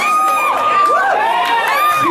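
A New Year party crowd cheers and whoops loudly and continuously, several excited high voices shouting together close by.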